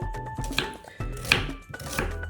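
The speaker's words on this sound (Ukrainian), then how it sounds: "Нарізаємо цибульку дрібно." A knife chops an onion on a cutting board in a few sharp, close knocks, with short gaps between the strokes.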